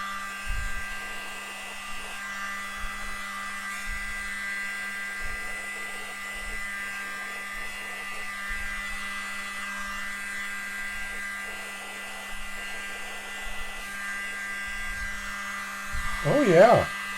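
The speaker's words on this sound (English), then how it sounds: "Don't you just love the blower?" A steady, faint whirring hum of a blower aimed at acrylic paint during an abstract paint pour, droning continuously while people talk quietly underneath.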